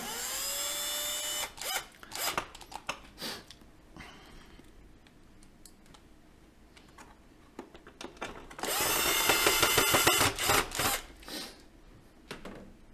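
A power screwdriver removes screws from a Nivona espresso machine, with several whirring bursts of varying length, the longest in the middle and near the end, separated by clicks and handling noises, close up with no talking.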